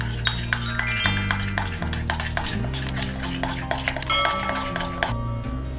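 Kashmiri chilli powder, garam masala and kasuri methi are stirred together in a pan, heard as close spoon clinks and scrapes against metal over a steady background hum, with brief clatters throughout.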